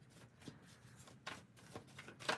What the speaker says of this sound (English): Give me one moment to shuffle.